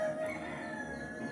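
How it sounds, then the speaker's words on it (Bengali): Rooster crowing in a quiet rural village, a single drawn-out call heard at moderate distance over a soft background hum, no talking. "এই তো এদিকে মোরগ ডাকতেছে।"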